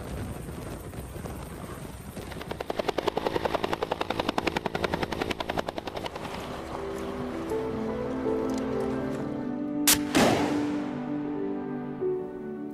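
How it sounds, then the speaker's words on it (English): A helicopter's rotor thumps steadily, loud and close, hoisting a torpedo out of freezing water, with a whooshing rush of wind and water spray beneath it. "The retrieval is completed when a chopper hoists the torpedo out of the water."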